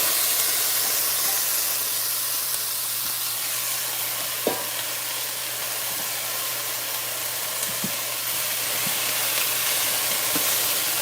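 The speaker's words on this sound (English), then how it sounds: "And then we're going to get our vegetables all up in there" Vegetables fry in hot oil for Jamaican brown stew fish, a steady broad sizzle and hiss with a few faint clinks of stirring, continuous and close with no talking.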